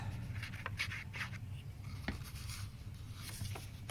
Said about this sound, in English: Grab a glue stick or double-sided tape, or even just some school glue, whatever you have on hand, and put some glue on those flaps